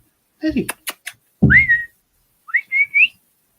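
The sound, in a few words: whistling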